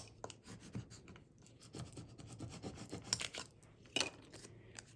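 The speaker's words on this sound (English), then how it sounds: "We'll burnish it from the back as well." Cricut adhesive foil being burnished from the back, soft close rubbing and scraping strokes in an irregular rhythm, faint, with a couple of sharper scratches.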